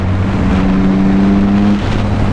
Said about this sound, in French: dès que j'ouvre, je tombe à rapport, deux rapports, et là, ça gueule fort